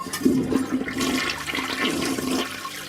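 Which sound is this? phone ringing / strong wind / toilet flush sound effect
toilet flush sound effect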